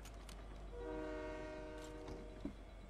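Train in a video game, a faint, distant horn blast sounding for about a second and a half over quiet rumbling ambience, with a soft clunk just after, no speech.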